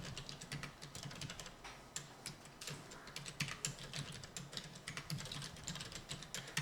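Fingers type on a computer keyboard, producing rapid, irregular bursts of crisp key clicks at close range that keep going without pause, with no voices.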